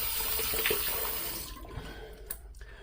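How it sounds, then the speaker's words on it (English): Tap water runs loud and steady as a razor is rinsed beneath it, then the flow cuts off, leaving a few drips and small clatters. "let's rinse this off properly now"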